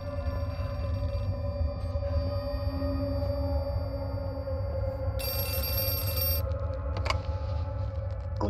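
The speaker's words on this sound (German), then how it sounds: "Schon wieder Telefon." A telephone keeps ringing in the horror video game Outlast 2, a steady electronic ring over a dark droning ambience, with a bright burst of static partway through.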